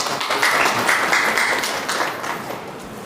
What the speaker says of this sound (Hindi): एक बार जोर से ताली बजाएंगे सभी लोग